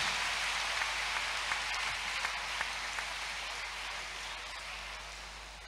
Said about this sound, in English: Clap unto God and appreciate him.